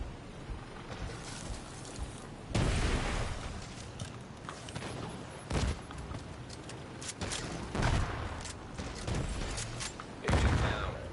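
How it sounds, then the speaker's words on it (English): Mortar explosions in The Division 2 PvP match boom heavily and repeatedly amid continuous gunfire and game noise, several loud blasts standing out over a dense, rumbling battle mix. "2 mortars from the spawn"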